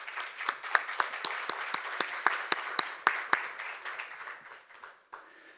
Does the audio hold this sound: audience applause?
yes